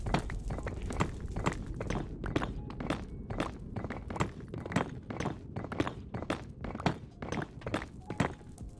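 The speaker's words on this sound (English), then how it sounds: "Dude, I love mining this block." Repeated block-mining in the video game Minecraft, a steady stream of crunchy thunks and breaking clicks continuing for several seconds at a brisk, fairly even rhythm, close and moderately loud over faint background.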